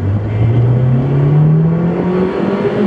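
A car engine revs hard and loud up to the rev limiter in a single sustained, climbing whine that holds near the top, close and alone with no talking.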